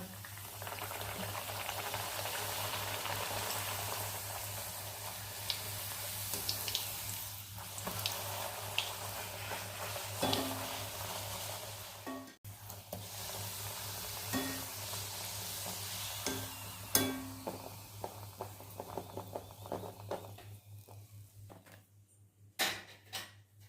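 Continuous bubbling sizzle of puris deep frying in hot oil, with a low steady hum underneath and occasional scrapes and clicks of a utensil.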